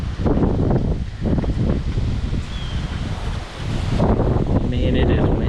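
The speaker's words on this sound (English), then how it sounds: "Man, it is windy as I don't know what." Strong wind buffets the microphone outdoors during an engine teardown on a Chevrolet Blazer, a loud continuous roar with gusts, mixed with faint rustling and some clanking of tools.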